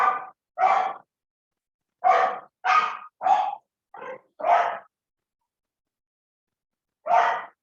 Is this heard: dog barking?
yes